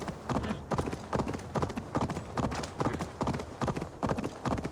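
Steady clip-clopping of horse hooves in a continuous trotting rhythm, close and fairly loud, with no talking over it, from the video game Assassin's Creed Valhalla.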